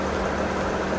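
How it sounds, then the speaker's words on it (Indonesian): A genset engine runs steadily at a rice-drying facility, giving a continuous, even mechanical drone with no breaks or talk. "Genset suara udah normal"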